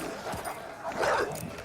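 Dogs attack a man in a scene from the 2012 film Django Unchained, with loud, continuous snarling, growling and yelping filling the whole moment.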